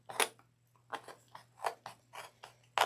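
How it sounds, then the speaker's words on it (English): Scissors snip through two layers of material in about seven crisp, evenly spaced cuts, close and fairly quiet with no talk. "make sure you cut through both layers"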